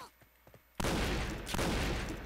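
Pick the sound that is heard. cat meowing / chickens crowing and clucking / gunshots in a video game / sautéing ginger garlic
gunshots in a video game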